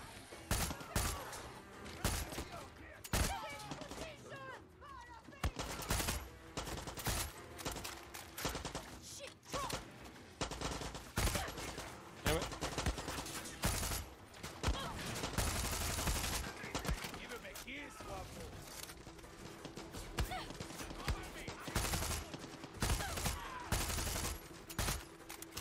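Gunfire rattles through a Far Cry 6 firefight on PS5, dense bursts of automatic shots and scattered single cracks layered with thuds and impacts, loud and continuous, with someone talking intermittently over the shooting.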